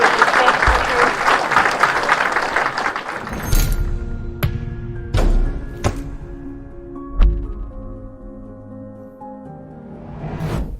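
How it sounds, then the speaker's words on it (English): An audience at the International Science Summit in Amsterdam applauds Professor Richard Werner and the panel, a dense, loud burst of clapping that fades after a few seconds, followed by scattered heavy thumps and rustling. "Another round of applause for Professor Richard Werner and our panel"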